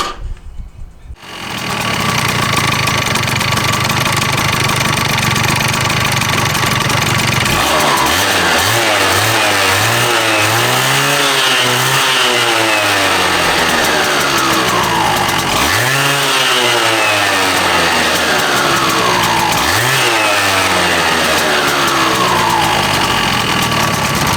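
A Honda Elite scooter engine with a freshly changed drive belt starts up and idles, then revs in three loud sweeps, each climbing in pitch before dropping back, close and continuous.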